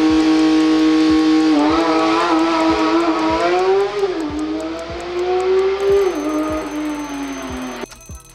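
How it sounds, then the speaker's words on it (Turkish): A Porsche 911 GT3 engine revs hard and loud, pitch climbing, dipping and rising again through repeated gear changes, close up and without voices. "Porsche 911 GT3 bu sesin kaynağıdır."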